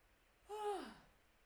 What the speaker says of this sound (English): this yawning, it's part of just the way what my body does when I do this energy healing and clearing